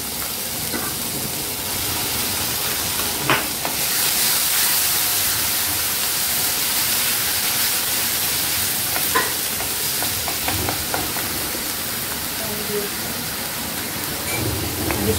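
Ginger garlic paste fries in an iron wok while making a fenugreek and yogurt curry. A dense, steady sizzle runs throughout, with an occasional sharp clink of an iron ladle.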